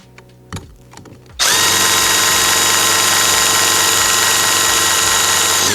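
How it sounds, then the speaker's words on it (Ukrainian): Vitals Master ARa 1618-2P cordless hammer drill in hammer-drilling mode, with a few faint clicks before the motor starts loudly and holds a steady, dense hammering whir to the end. "Ставимо функцію свердління з ударом."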